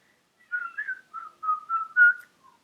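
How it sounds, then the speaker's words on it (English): A person whistles a bright, wandering tune of several short phrases, clear and close, with no talking. "Whistle while you work."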